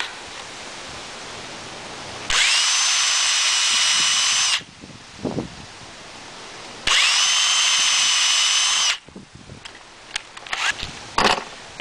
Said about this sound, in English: Pre-drill on the blocks so they don't split.